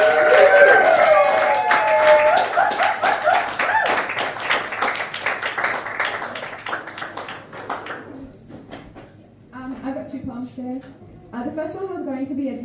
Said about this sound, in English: start the round of applause at the back there